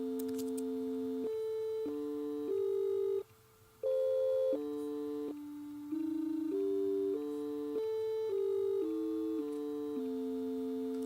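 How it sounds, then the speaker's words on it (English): Two Pure Data synthesizer oscillators at full volume, a steady electronic tone stepping through held pitches with a slightly distorted, buzzy edge and no voices. "If they were both at full volume, then immediately we get a bit of distortion."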